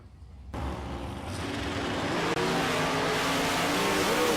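Drag race cars at a South Coast test and tune meet, including a Camaro, roaring down the strip. The engine noise starts abruptly and swells to a loud, sustained drone that builds steadily as the cars run toward the finish.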